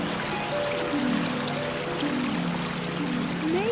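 Distant waterfall rushing steadily in a cartoon scene, a continuous watery wash with a faint musical tone gliding underneath and no voices.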